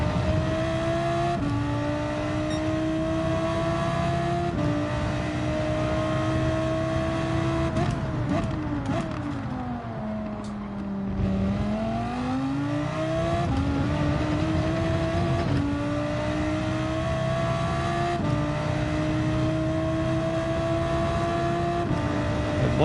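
A race car engine from a racing video game drives a qualifying lap, revving loud and steady through the gears, dipping through a braking downshift near the middle before climbing back to full throttle.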